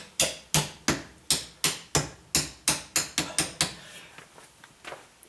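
Hammer blows drive steel hinge pins back into a sagging door, about a dozen sharp metallic strikes in a steady rhythm, quickening near the end, then a few lighter taps.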